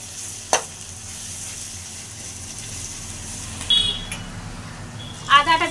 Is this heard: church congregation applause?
no